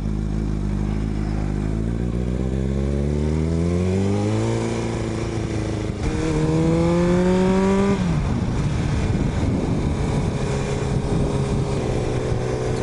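A Kawasaki motorcycle engine roars loudly up close while riding, revving up through rising pitch, dropping briefly at a shift, then climbing again before settling into a rough steady drone.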